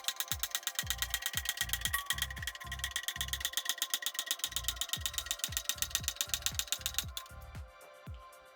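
Steady rhythmic pump strokes with sharp ratcheting clicks, close and continuous, as an Abba Sky Lift hydraulic motorcycle lift is raised under a BMW R1300 GS, slowing slightly near the end.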